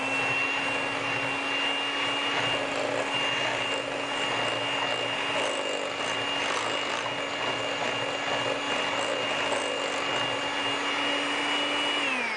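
An electric mixer whirs at a steady high speed, whipping heavy cream with powdered sugar in a continuous close motor drone with no talking.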